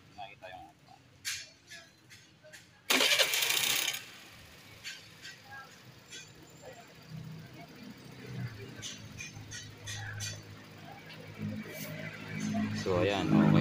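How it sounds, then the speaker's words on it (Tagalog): A Suzuki Burgman scooter, just repaired for stalling and a check-engine fault, cranks with a loud second-long burst and then settles into a low, steady idle hum, with someone talking over it. "So, try natin i-start."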